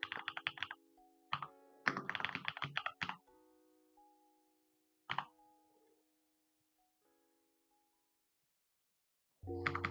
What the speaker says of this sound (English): Noonie, your keyboard sounds super creamy.